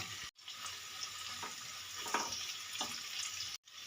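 Onion and chopped green chilies fry in a pan with a soft, continuous hiss and sizzle, broken by a few faint stirring scrapes; quiet and close with no talking.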